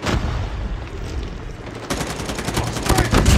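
Gunfire in the mobile shooter game Call of Duty Mobile, a rapid string of automatic shots that grows denser and louder toward the end over a steady game background.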